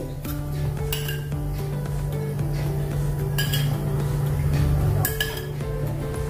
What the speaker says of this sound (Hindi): तो मैंने एक पैन रखा है, पैन में हम तेल डालेंगे।